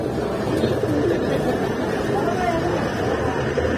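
Pigeons cooing at Kaptan Bazar pigeon market, a dense murmur of low coos from many birds under steady crowd chatter and voices throughout.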